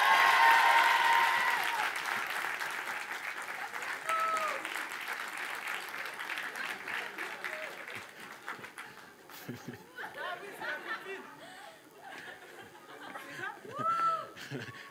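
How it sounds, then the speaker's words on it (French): Audience applause with chatter and some laughter at a live variety show, loud at first then fading to scattered clapping under talk and voices. "La copine descend et le public l'applaudit."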